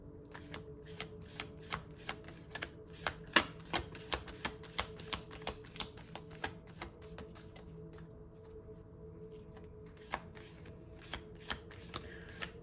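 Tarot cards shuffled and drawn during a Scorpio reading, a steady run of soft crisp card snaps and flicks close by over a faint hum, with no voices.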